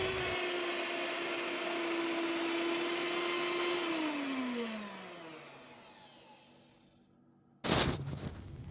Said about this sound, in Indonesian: Ini aku mixer kurang lebih selama 10 menit.